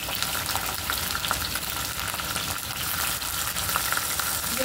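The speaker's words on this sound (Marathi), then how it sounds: "मी आधी भेंडी एकदम क्रिस्पी भाजणार" Okra pieces frying until crispy in a pan for masala bhindi, a dense steady sizzle and crackle at close range with faint stirring, no voices.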